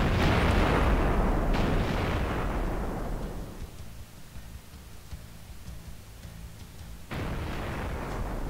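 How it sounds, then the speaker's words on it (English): Mortar and howitzer fire in the WWII strategy game Total War: 1942 booms with deep rumbling blasts that decay slowly, a sharp report near the start and another heavy boom toward the end. "We'll destroy the towers with the Stokes mortar."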